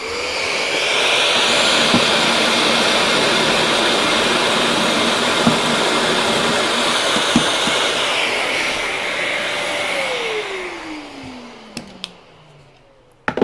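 A Festool dust extractor runs with a loud, steady whooshing roar close by, then its motor winds down and fades out near the end, with a few faint clicks.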